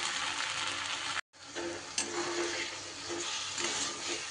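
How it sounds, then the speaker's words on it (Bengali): A paste of poppy seeds and green chilies sizzles and fries steadily in a hot pan. A brief clatter interrupts it before the hiss carries on alone. "এইবার দিয়ে দিচ্ছি পোস্ত আর কাঁচা লঙ্কার পেস্টটা"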